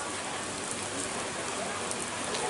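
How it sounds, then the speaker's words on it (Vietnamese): Heavy rain pours steadily at an outdoor zoo, a dense, even hiss of drops hitting surfaces that fills the whole stretch without letup. "Mưa lớn rồi, một ngày rất là may mắn."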